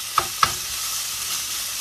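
Bacon sautéing in a pan: a steady bright sizzle with two quick utensil clicks near the start, close and fairly loud, no voices.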